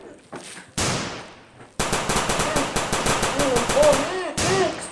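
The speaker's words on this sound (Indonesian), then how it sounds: "Tembak musuh, tembak aja" Loud, close bursts of automatic gunfire from the video game PUBG, rapid rhythmic shots broken by short pauses, with brief single shots before the main volley.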